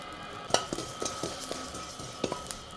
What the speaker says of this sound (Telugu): నేనైతే డ్రై రోస్ట్ చేసుకుంటున్నాను వీటన్నిటిని కూడా